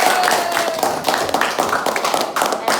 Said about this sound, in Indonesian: tepuk tangan dulu untuk kelompok kalian